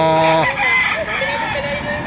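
A rooster crows loudly nearby at a poultry auction market, a long harmonic call that breaks off, followed by softer clucking and chatter from chickens.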